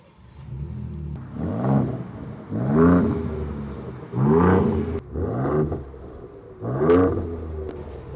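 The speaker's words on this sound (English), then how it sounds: "Can't wait to jump in, start it up," A 2023 Ford Ranger Raptor's 3-litre twin-turbo V6 petrol engine starts and revs: loud, close throaty bursts rise and fall about five times, with brief settling idle between each rev.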